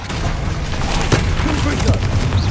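Descendo spell cast in the video game Hogwarts Legacy, a dense, loud battle mix of rumbling blasts and booming impacts with a sharp hit in the middle, a voice speaking over the effects.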